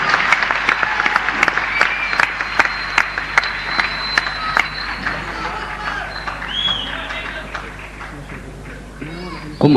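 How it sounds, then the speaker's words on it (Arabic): An audience at an Islamic nasheed festival in Ras Al Khaimah bursts into applause, a dense burst of sharp, rapid clapping that gradually thins and softens, with voices murmuring and calling out beneath it. "أسمع تصفيقة فقط بس."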